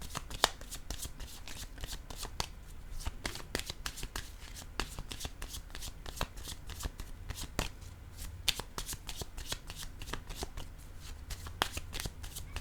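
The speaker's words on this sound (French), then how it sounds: "Je vais déposer une autre carte." Tarot-style reading cards shuffled and flipped down one after another in a steady run of sharp, close riffling snaps and slaps, with no voices.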